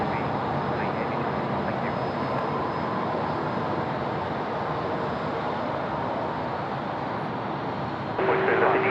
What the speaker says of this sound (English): We're now looking at Air Asia coming in from Bangkok, just rolling out on runway 34 left here in Sydney.